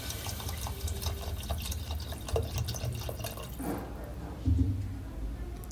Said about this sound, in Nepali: यतिको भुटिसकेपछि म अब पानी राख्न गइरहेकी छु।